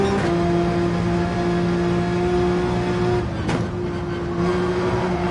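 A race car engine runs at full throttle in a racing video game, a loud, steady high-pitched whine with a held tone, briefly dipping as if shifting, then carrying on without any voices.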